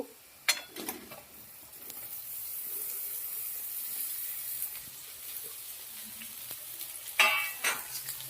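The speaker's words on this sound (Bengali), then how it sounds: "এবার এর মধ্যে কেটে রাখা চিচিঙ্গাটা দিয়ে দেব" Chopped snake gourd fries with onions in a pan, a continuous hiss and sizzle broken by sharp clanks of a spatula stirring near the start and again toward the end, close and unaccompanied by speech.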